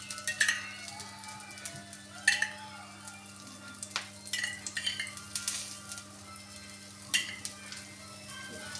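Cauliflower and onion slices sizzle steadily in oil on a tawa, with a soft frying hiss throughout and a few light metallic clinks and scrapes of a utensil against the pan.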